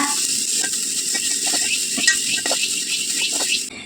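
Grated coconut roasting in ghee in a pan for Kerala-style nendran banana kozhukattai, giving a steady close sizzle with light scraping rattles from stirring and no voices.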